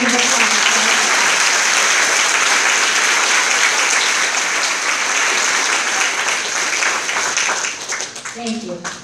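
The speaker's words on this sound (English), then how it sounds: "how about a big round of applause?" Loud, sustained applause from an audience at an elementary school graduation, with scattered cheers running steadily through the clapping before it thins out near the end.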